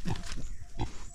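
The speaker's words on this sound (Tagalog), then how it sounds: "Ganyan po ang baboy." A farm pig grunts close by, two low rough grunts separated by a short pause, with faint background noise.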